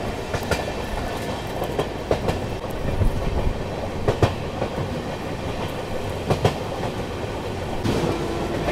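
Passenger train on the Indore to Varanasi Kashi Mahakal Express route, running on railway tracks past the Fatehabad bypass line toward Ujjain, with a steady rolling rumble and periodic wheel clicks at the rail joints throughout.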